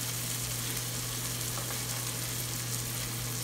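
Onions sauté with turmeric in a pan for a Kerala-style beef dum biryani, giving a loud, dense, continuous sizzle close up with a steady hum underneath and no voices.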